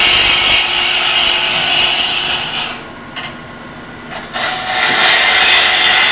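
Wood turning on a lathe as a turning tool cuts the bottom of a bowl-shaped tea light holder, giving a steady loud scraping hiss that dips briefly mid-way and then resumes, with no talking.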